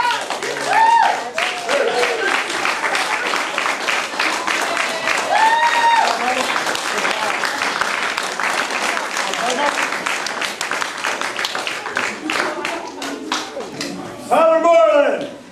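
An audience claps and cheers at a martial arts belt ceremony, sustained applause filling the room while voices continue over it throughout.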